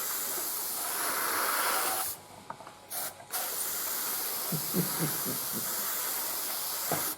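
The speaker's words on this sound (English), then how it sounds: "it's so good out of the airbrush" An airbrush sprays paint onto a Takom M47 tank scale model, giving a steady close hiss that cuts out briefly and resumes, with faint clicks and small knocks in the background.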